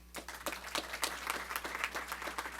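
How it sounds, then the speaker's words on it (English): An audience applauds at a board of education meeting, a dense, even patter of many hands clapping throughout, with a steady low hum beneath it. "let's give her a round of applause one more time"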